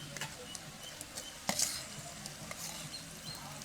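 Tomatoes go into a pan of softened onions, green chillies and curry leaves. They sizzle steadily while a utensil scrapes and clinks against the pan, with one sharper clatter partway through.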